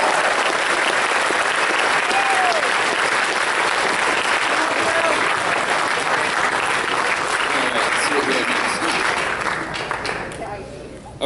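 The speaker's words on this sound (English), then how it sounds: "round of applause for our directors and for all of our volunteers" A convention audience at an opening ceremony applauds directors and volunteers, with dense, sustained clapping filling the hall and some cheering and voices mixed in, fading toward the end.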